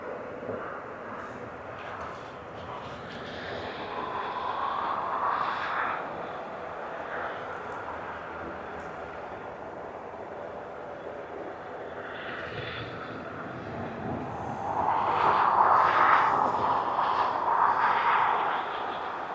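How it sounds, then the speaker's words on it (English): An Embraer airliner passes near Aberdeen Airport, a steady broad jet roar that swells louder toward the end, heard from outdoors at a moderate distance with no voices. "Another Embraer."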